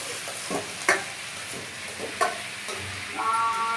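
Broad beans curry (chikkudukaya) being stirred in a frying pan, with a low steady sizzle under repeated scraping clicks of the spoon against the pan.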